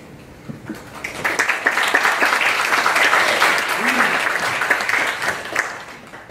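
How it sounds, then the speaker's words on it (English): An audience at a conference on the future of Greater Europe breaks into full applause, a thick, sustained clatter of many hands that swells quickly and holds steady throughout. "Thank you very much for the applause."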